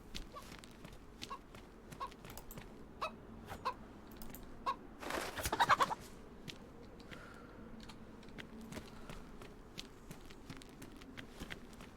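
A chicken clucks in the survival video game DayZ amid soft clicking footsteps and keyboard taps, with one louder burst of flapping and squawking midway and otherwise sparse, quiet clucks.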